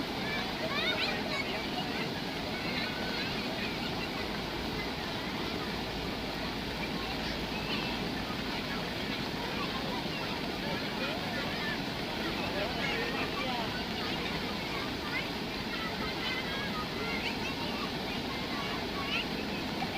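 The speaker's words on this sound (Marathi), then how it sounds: "आपल्या नदीचा हा पहिला पूर आलाय पहा," A river in its first monsoon flood rushes past in Nashik, a constant, dense roar of fast water with wind buffeting the microphone, steady and unbroken throughout.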